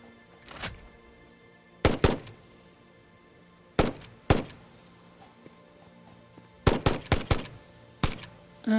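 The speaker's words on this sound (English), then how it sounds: "The reason why I'm shooting one shot at a time is because of recoil." Gunfire in the video game Satisfactory, fired one shot at a time in short groups of sharp, loud blasts separated by pauses, over a low game background hum with no talking.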